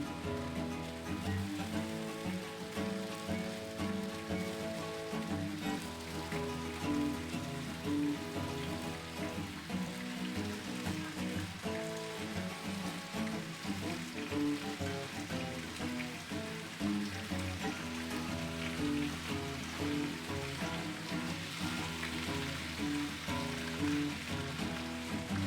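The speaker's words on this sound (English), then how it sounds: "Drop some bacon on to start off with. Got this Blackstone on it's on a low heat, not too hot." Bacon sizzles steadily on a Blackstone griddle over low heat, a constant soft crackling hiss that stays even and fairly quiet throughout with no voices.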